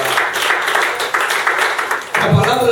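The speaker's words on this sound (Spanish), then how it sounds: "Con un fuerte aplauso a Cristo." A church congregation applauds during a Spanish-language worship service, a dense steady wash of clapping for about two seconds before it cuts off and a voice begins speaking.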